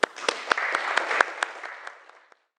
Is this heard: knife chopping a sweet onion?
no